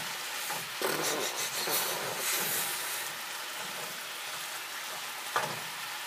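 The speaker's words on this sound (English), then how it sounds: "I'm doing this browning the beef right" Ground beef for chili browning in a pan, giving a steady, close hiss of sizzling fat with occasional stirring scrapes and small pops, no voices.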